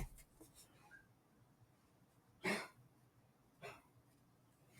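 A quiet, close cough bursts out once mid-clip, followed by a softer throat sound, in an otherwise hushed room.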